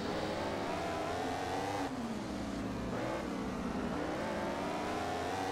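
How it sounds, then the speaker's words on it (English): A motorcycle engine howling at full throttle in the racing game MotoGP 15 at Jerez, loud and continuous with rising and falling revs as gears change through corners, with no speech. "We're just pushing the bike to the limit on this final lap."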